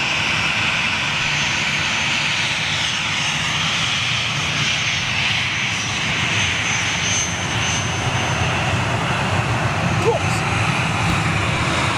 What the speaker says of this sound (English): is that a TUI Dreamliner coming out, or with any luck, it's a 757